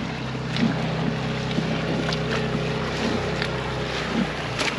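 A dinghy with an outboard motor drives across the water near Tahanea atoll. The engine drones steadily throughout, mixed with heavy wind buffeting the microphone.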